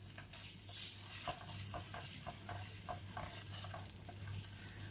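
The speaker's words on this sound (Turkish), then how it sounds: "Ben her zaman salça yemeklerimde kavururum." Thick tomato and pepper paste sizzles and fries in a pan while being stirred, a soft continuous crackle with occasional scraping, close and fairly quiet.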